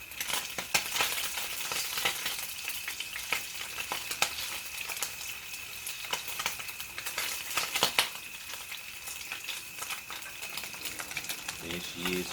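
Spam fries in a pan on a camp stove, a quiet, close, crackling sizzle scattered with irregular sharp pops and spits.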